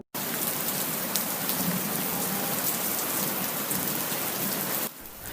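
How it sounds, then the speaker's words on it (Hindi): Steady, heavy rain pours down in a dense, continuous hiss, then cuts off abruptly near the end, leaving a quieter patter. "बारिश हो रही है, आप अंदर आ जाइए।"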